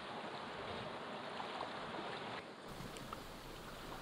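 River rapids on the Petawawa River rush past a canoe in a steady broadband roar of churning water mixed with wind buffeting the microphone, continuous and fairly loud.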